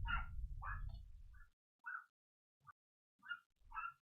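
A dog barking and whimpering downstairs in a house, with several sharp barks early on and then scattered yips and whines, heard alone at a moderate distance.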